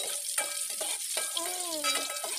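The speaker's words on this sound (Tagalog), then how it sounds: "Unahin natin pagisa yung onion" Onion sautéing in a pan for ginataang tilapia, a bright hissing sizzle with quick stirring clicks, close and steady, plus a brief whistling tone and no speech.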